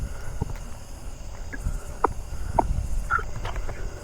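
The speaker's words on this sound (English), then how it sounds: "I'm hearing Nebraska coneheads now, and two-spotted tree crickets." Nebraska coneheads and two-spotted tree crickets call in a neighborhood at night, a faint steady trilling drone running throughout with a few soft taps and rustles nearby.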